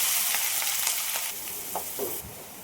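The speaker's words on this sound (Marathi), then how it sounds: "तेल तापायला ठेवलंय मी आता त्यात घालते मी कांदा आणि मिरची" Steady, loud sizzling of onion and chili frying in hot oil in a wok fills the scene, with a few soft stirring scrapes and no voices.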